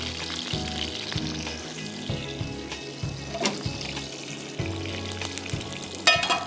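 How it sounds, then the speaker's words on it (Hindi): Boti bun kebabs fry in a tablespoon of pomace olive oil, giving a steady close sizzle with light bubbling, occasional utensil clinks and a sharper clatter near the end. "अच्छा, नहीं बस मैं फ्राई करने डाल दूँ"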